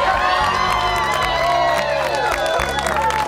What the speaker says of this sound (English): Look at this entire crowd over here to celebrate one man's achievements over the years